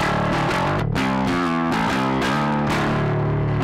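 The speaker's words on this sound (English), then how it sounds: "So here is the sound of the Blue Line bass alone." A heavily distorted Blue Line bass guitar through an Avid Eleven Rack amp model with no cabinet plays a chugging riff with gritty, buzzing tone, loud and dry, with short pauses between phrases.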